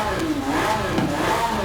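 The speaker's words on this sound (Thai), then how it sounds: "นี่เสียงครับผมเสียงเครื่องเดิม" A Lamborghini Sián Roadster's stock V12 in Forza Horizon 5 revs loudly and continuously, a steady roaring drone with rising and falling pitch, close and sustained throughout.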